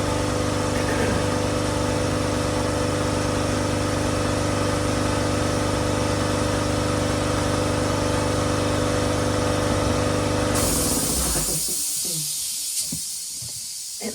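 An air compressor runs steadily with a loud, constant motor drone and hiss as its tank fills in a garage during work on a 2009 Dodge Ram. It cuts off near the end, leaving quieter workshop sounds.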